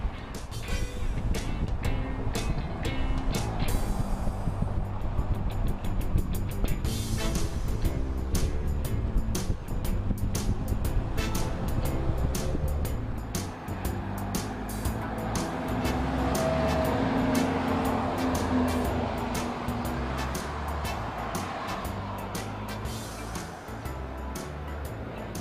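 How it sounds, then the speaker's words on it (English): A convoy of trucks hauling semi-low loader trailers drives through Germany, producing a continuous low engine drone and road rumble with a steady level and passing mechanical clatter, with no talk. "While the column of vehicles makes its way through Germany towards the Netherlands"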